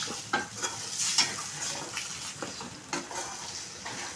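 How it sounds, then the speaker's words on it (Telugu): Egg and capsicum fry in a pan while a spatula stirs through them, making soft scraping strokes over a light sizzle, close up with no talking. "దీన్ని ఒకసారి కలుపుకున్నాము బాగా కలుపుకోవాలి"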